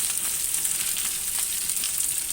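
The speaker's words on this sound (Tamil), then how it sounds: "ஒரு ஃபுல் பீர்க்கங்காயை நான் வதக்குறேன்" Round slices of a whole ridge gourd sautéing in a pan for chutney, giving a steady, even sizzle throughout with faint crackles and no talking.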